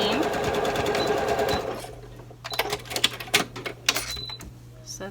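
A sewing machine stitches a seam in thick fabric with contrasting thread, a fast, even mechanical whir for a moment before it stops, followed by quieter clicks and handling noises, with a voice talking briefly nearby.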